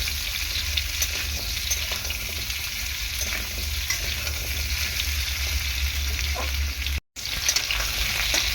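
Food frying in oil in a pan, a loud, continuous close sizzle with soft stirring scrapes and a brief cut to silence near the end.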